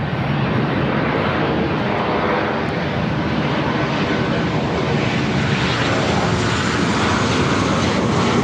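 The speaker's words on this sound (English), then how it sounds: "This is United Airlines 1413 coming in from San Francisco on the 737-800." A United Airlines Boeing 737-800 lands at Los Angeles International Airport after a flight from San Francisco. Its engine noise is a continuous, even roar that holds steady from start to finish, with no talk.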